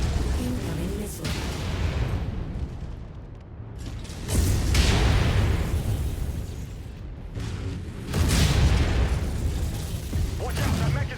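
Missile explosions in the MechWarrior 5 mech combat game boom in heavy, rumbling bursts, two big blasts several seconds apart over constant mechanical machinery noise and a dense low roar, with no talking.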